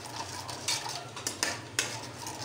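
A utensil scrapes and clinks against a pan while chicken tomato sauce is stirred over low heat, with several distinct metallic knocks and a soft background hiss.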